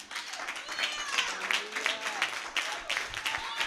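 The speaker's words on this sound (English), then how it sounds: "I want you to stand and give a round of applause to the Holy Spirit" Church congregation applauding during a Friday service: sustained, dense clapping from a crowd with voices and cheering mixed in throughout.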